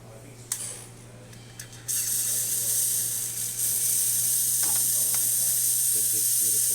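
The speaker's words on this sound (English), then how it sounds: "let's test the steamer." A Quick Mill Silvano espresso machine's steam wand opens with a sudden, loud, steady hiss that swells and keeps going after a few faint clicks and handling noises.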